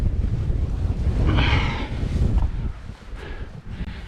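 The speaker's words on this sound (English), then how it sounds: "You can see there's wind though." Strong wind on a winter Lake District mountain scramble near Stickle Tarn: steady loud buffeting and roaring gusts across the microphone, with no speech.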